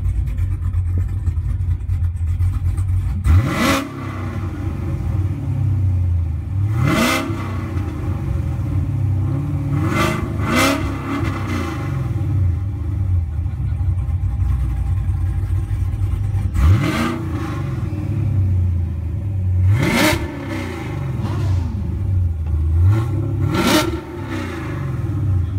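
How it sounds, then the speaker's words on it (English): A Chevrolet Camaro at a Cars and Coffee meet in Fallbrook, California, revving its engine from inside the car: a steady idle punctuated by about seven sharp rising rev bursts every few seconds, loud and close. "I'm in Lito Camaro's car right here right now with some revs."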